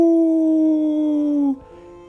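A Siberian husky at a zoo gives one long, loud, steady howl that slides slightly downward for about a second and a half before cutting off abruptly, heard alone.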